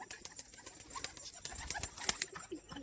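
Madras pigeons, faint soft cooing and scattered light fluttering and shuffling close by, in short irregular bursts against a quiet background.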